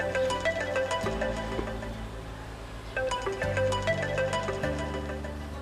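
Outgoing phone call on loudspeaker, with a ringback tone or ring melody repeating in short tonal bursts, moderately quiet and with no one talking.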